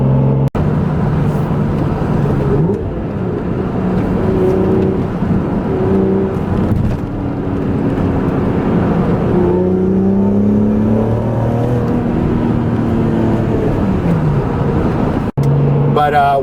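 A BMW M Coupe engine droning under load while driving, steady engine hum with rising and falling pitch as it revs through gears, close and loud, with a voice talking over it.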